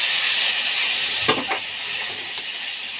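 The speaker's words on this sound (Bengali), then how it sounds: "এখন মশলাগুলো ভালো করে মিশিয়ে তাতে অল্প জল দিয়ে আমি কিছু সময় ধরে কষাতে থাকবো।" Spices with a little water sizzle in a pan, a steady close hiss with a few brief bubbling spurts.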